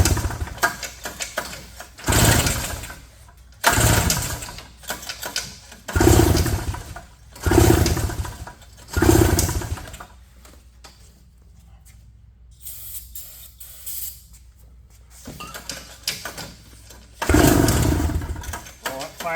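A 1983 Honda Odyssey FL250 go-kart engine is pull-started, with repeated loud, close rattling bursts from the recoil starter, about one every second and a half, then a quieter gap and a few more pulls as the engine briefly sputters.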